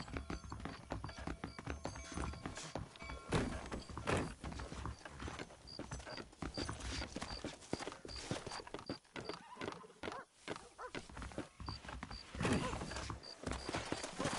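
Horses' hooves clip-clop steadily in the Red Dead Redemption video game, a busy rhythmic clatter that runs throughout over other game noises.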